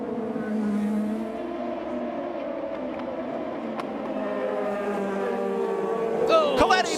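IndyCar race cars at the 2015 Detroit street race accelerate back to speed after the pace car leaves, a steady layered engine drone with rising harmonic whine, growing louder near the end with a sharp burst.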